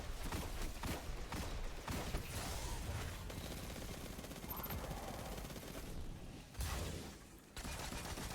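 Hand cannon gunfire in a first-person shooter video game during a boss fight, heard as loud repeated shots and bursts over dense game effects and music, with brief quieter gaps.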